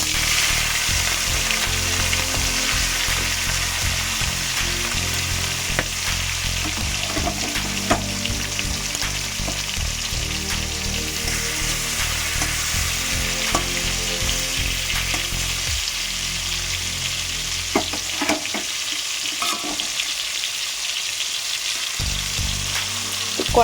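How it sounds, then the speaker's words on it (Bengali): Prawns shallow-frying in hot oil in a home kitchen pan, a loud, continuous close sizzle and spatter with bursts of crackle as pieces shift, no talking over it. "এবার আমি মাছগুলো মানে চিংড়ি মাছগুলো হালকা করে ভেজে নেব।"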